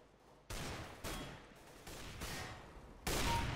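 Four or five loud gunshots from Counter-Strike: Global Offensive deathmatch play, spaced roughly half a second to a second apart, each a sharp blast with a ringing tail, the last one the loudest.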